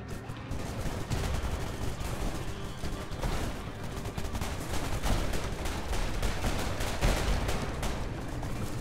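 Mini rockets fire nonstop in the arcade shooter Blamdown: Udder Fury, a dense, loud barrage of rapid blasts and explosions that runs unbroken for the whole stretch.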